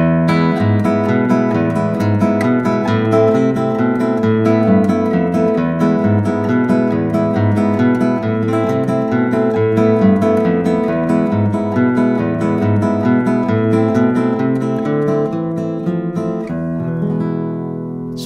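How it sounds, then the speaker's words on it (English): Malagueña, the Spanish melody, played on guitar with full strummed chords, loud, close and continuous, with ringing sustained notes and a rhythmic strumming pulse. "And this one is played with the full chord, so it's a little bit more challenging, but it sounds really powerful."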